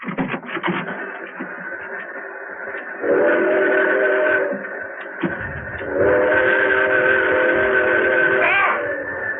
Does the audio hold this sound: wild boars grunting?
no